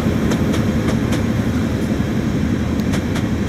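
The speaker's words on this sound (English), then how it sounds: "Freight line is 66. 60608. With the containers." A Class 66 freight locomotive hauling a container train out of Grangemouth, heard as a steady, loud, deep rumble of rolling wagons and engine that continues throughout, with faint higher clanks.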